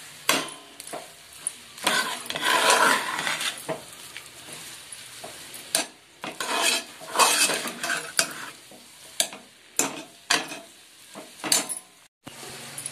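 Ingredients fry in a pot for chicken curry and biryani, a faint sizzle under repeated clattering stirs and scrapes of a metal spoon against the sides, with brief pauses between strokes.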